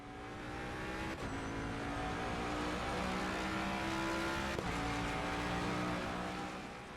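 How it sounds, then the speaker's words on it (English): A 2024 Ford Mustang GT3 race car in the game Assetto Corsa Competizione: a loud, continuous engine roar from onboard, rising and falling through gear shifts, with a couple of sharp shift cuts. "Last, but certainly not least, we have the 2024 Ford Mustang GT3."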